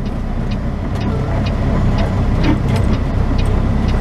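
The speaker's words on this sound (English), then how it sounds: "Traffic go by here." Road traffic passing on a street near a parking area, with a steady moderate rumble of cars and heavier vehicles and a few faint clicks over the drone. No one speaks.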